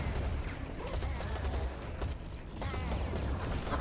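Rapid gunfire from the video game Serious Sam 4, a dense, continuous barrage of overlapping shots that stays loud and busy throughout the short stretch.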